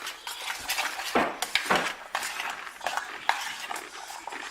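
A metal spoon stirring and scraping in a bowl while mixing a dish of sopa and calabacitas, giving repeated close clinks and scrapes in an uneven rhythm, with no voices.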